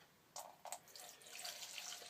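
Liquid poured out of the fuel tank of a Tilley paraffin pressure lamp after removing its pump, a soft trickling splash that starts in short bursts and then runs steadily, faint and close.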